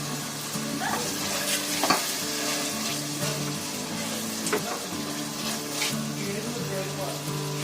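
Beef pasanday being stirred and roasted dry in a pan, with a steady close sizzle and frying crackle under repeated scraping stirs, and a few louder clatters of the spoon against the pan.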